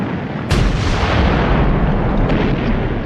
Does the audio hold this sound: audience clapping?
no